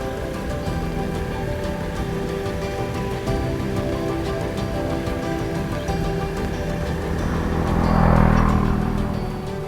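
Heavy rain pours steadily during a solo motorcycle trip on the Swedish and Norwegian TET with a Honda CRF300, a dense continuous wash of drops drumming nearby, swelling louder near the end.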